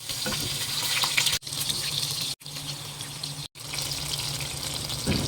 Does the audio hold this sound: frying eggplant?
yes